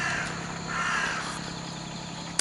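Crows caw loudly and close by in an outdoor spot in Kyoto, Japan, a harsh rasping call rising and falling over about two seconds, with no voices.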